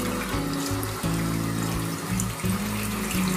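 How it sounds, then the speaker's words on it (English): Cold water runs steadily from a tap into a sink, a close, continuous rushing with a low gurgle that shifts slightly as it fills. "So I just fill it up with cold water."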